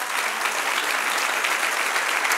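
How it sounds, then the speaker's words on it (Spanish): A church congregation applauds loudly and steadily at a Spanish-language service, a dense wash of clapping hands that continues without pause. "Denle un aplauso al que vive."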